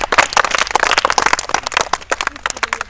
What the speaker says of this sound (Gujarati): એટલે તાળી બજાવી દો